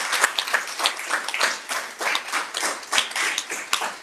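Graduates at a 2020 virtual graduation ceremony receive a round of applause: brisk, dense clapping from a small group, steady and close with sharp individual claps throughout.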